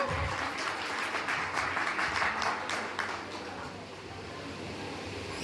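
Hall full of students at a college freshers' day applauds loudly, a thick continuous wash of clapping that eases slightly after the midpoint, heard from within the crowd.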